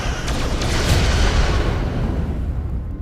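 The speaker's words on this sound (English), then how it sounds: "Stay with it. Keep firing." Starship weapons fire during a space battle in Star Trek: Resurgence, a dense, continuous rumbling barrage of booms and blasts that holds loud throughout.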